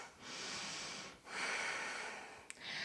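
Two long, broad breaths, a steady in and out breath during a yoga flow, close and fairly quiet, with a brief click near the end.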